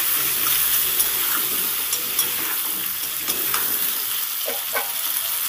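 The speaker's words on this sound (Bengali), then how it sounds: "এই আলু পটলের তরকারিতে বন্ধুরা আলু আর পটলটাকে সুন্দর করে ভেজে নিতে হবে।" Potato and pointed gourd pieces with salt and turmeric frying in oil in a pan, a steady close sizzle with occasional spoon scrapes and light clinks as the vegetables are stirred, with no talking.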